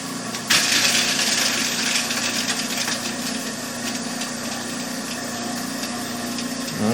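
Race car engine idling steadily and loudly nearby, a continuous buzzing drone with a brief louder burst near the start and no talk over it.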